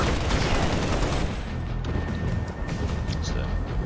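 Dense gunfire fills a battle in the video game Halo: Spartan Assault, loud rapid bursts overlapping into a continuous fusillade, with a voice speaking over the shooting.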